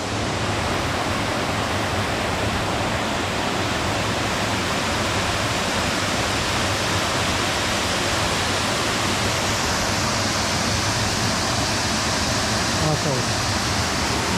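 Rainbow Falls in the Beechmont, Gold Coast Hinterland, roars as a steady, loud broadband rush of falling water, continuous and unbroken for the whole stretch with no clear voices over it.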